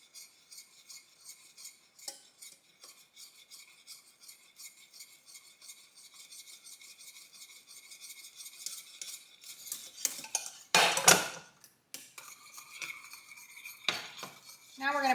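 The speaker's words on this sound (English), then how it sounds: "you're going to want to continue to whisk this" Ice cream custard being whisked in a metal pot on the stove, a fast, even rhythm of wire whisk clicks against the pot that grows louder and more vigorous toward the end, close up.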